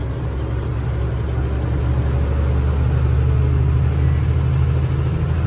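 A car drives along a road, its engine giving a steady, loud rumbling drone throughout with no talking.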